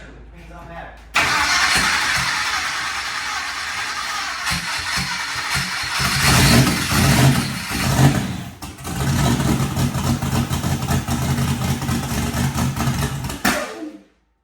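A twin-turbo Chevrolet Nova's engine cranks and sputters, catches and runs roughly at close range, loud and steady, before cutting off at the end.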